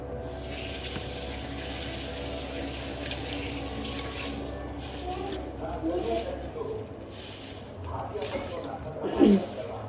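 Steady rush of water running from a tap into a sink, continuous and close, with a voice talking over it partway through.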